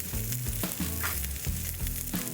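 Sea shrimp pan-frying in oil over high heat for pepper shrimp with Thai basil, making a loud, steady sizzle up close, with repeated low rhythmic bumps as the pan and food shift.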